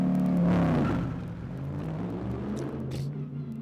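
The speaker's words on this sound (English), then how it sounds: "more and more cars rumbling their way out of the pit lane" GT race cars rumble out of the pit lane at Kyalami during the 9 Hour pre-qualifying, low engine drones and revs overlapping near and far, one louder at first then settling into a steady multi-car rumble.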